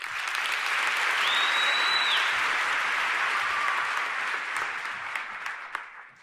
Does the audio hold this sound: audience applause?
yes